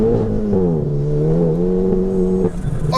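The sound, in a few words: 620bhp Golf GTI Clubsport wheels spinning during launch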